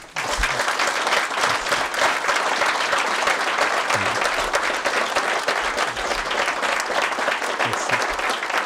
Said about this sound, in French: je pense que ça mérite encore des applaudissements